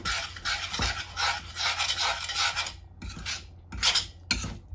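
Flour roasting in ghee for Gujarati sukhdi is stirred in a pan, making rhythmic gritty scraping and rasping strokes in short bursts with brief pauses between them.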